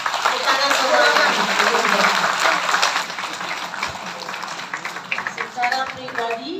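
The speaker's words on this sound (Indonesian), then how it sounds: "Tepuk tangan semuanya." Audience applause at a community operetta performance, a broad wash of many hands clapping that is loud at first, then thins and grows patchier as voices begin to come through toward the end.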